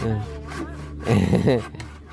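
Handsaw strokes rasp back and forth through timber for a house roof frame, a rough rhythmic rubbing close by, alternating with a person speaking over it.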